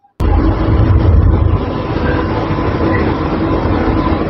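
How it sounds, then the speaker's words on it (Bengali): An AC local train on the Bongaon–Sealdah line arrives at Thakurnagar railway station, starting abruptly as a loud, close, steady roar of wheels and carriages that holds throughout. "ট্রেন এসে পৌঁছালো ঠাকুরনগর।"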